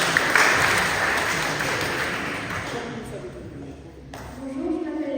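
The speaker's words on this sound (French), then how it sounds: "on l'applaudit bien fort" A church congregation claps for a young catechism student, a loud burst of applause that slowly fades out, followed by a voice speaking.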